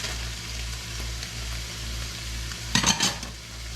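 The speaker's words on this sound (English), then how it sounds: "We're going to cook it until the onions are tender, about 10 minutes." Onions and green peppers with soy sauce, garlic and ginger frying in a pan, a low steady sizzle under a background hum, broken by a short burst of utensil clatter near the end.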